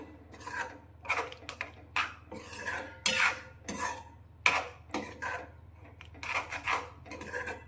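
A utensil scrapes and clatters against a pan while a vegetable curry with yogurt and spices is stirred, in irregular close strokes over a low steady hum.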